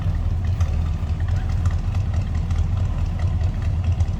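A 1965 Chevrolet Chevelle Malibu with a 283 V8 idles with a steady, throaty low rumble. It is loud and close, running continuously without any revving.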